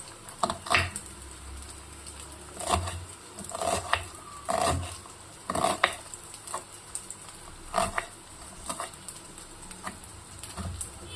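Crab tossed into masala in a hot pan sizzles and fries, with repeated scraping stirs of a spatula landing in uneven bursts over a low frying hiss.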